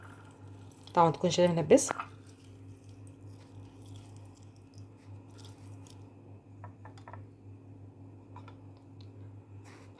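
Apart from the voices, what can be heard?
squeezing half a lemon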